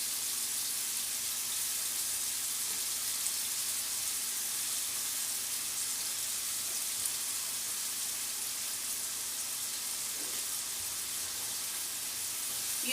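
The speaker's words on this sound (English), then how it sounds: "You just cook it until it's good and pink." Peeled, deveined shrimp sizzle in a pan, a faint, even hiss like light rain that holds steady throughout with no talking.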